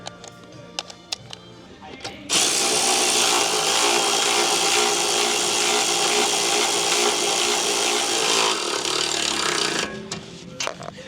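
Half-inch impact wrench driving nuts on a Can-Am OEM replacement rear bumper: one long continuous loud buzzing burst of about seven seconds, with faint clanks and handling noise before and after.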